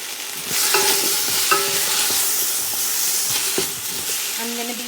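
Chow mein with green onions stir-fries in a hot pan, a loud continuous sizzle and hiss with intermittent scraping and clanking from the stirring utensil, close up and without talk.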